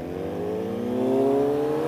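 A loud BMW S1000R or Triumph Speed Triple motorcycle exhaust revs up, its engine pitch climbing steadily as it accelerates close by.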